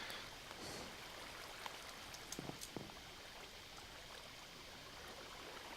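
Steady running water from a Minecraft block flow, a continuous soft wash with faint drip-like ticks scattered through, fairly quiet and alone with no voices.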